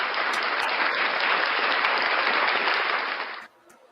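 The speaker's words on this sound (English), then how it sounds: "Round of applause for Blackheart Knight, Little Chihuahua, and" Bright, even applause rolls on for about three and a half seconds, then cuts off sharply, leaving near-silence.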